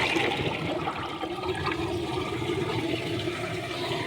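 Water flows from a pipe into a tank in a papaya field, a steady rushing wash that holds an even level throughout without pause.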